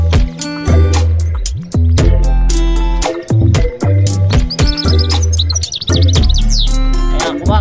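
A canary sings up close and loud in a dense, continuous run of chirps, trills and warbles, with high rapid passages woven between fuller notes.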